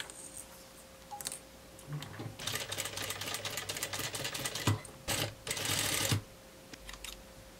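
A sewing machine runs in short and longer bursts while stitching a blouse seam, pausing between runs, close and moderately loud with a faint steady hum underneath.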